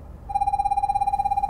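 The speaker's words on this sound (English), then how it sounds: "It's beeping at me to tell me that lorry's going to kill me." A 2020 Land Rover Defender's collision warning sounds inside the cabin as a steady, loud, pulsing electronic beep that starts abruptly and repeats rapidly at an even rate, alone without talk.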